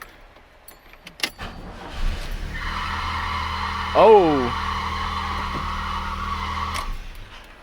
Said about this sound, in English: engine fires up, but if you can hear that, that squealing is not normal